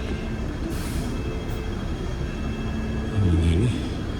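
A Hong Kong tram rumbles steadily along its tracks through Causeway Bay, a low continuous rolling drone with a brief louder grinding swell near the end.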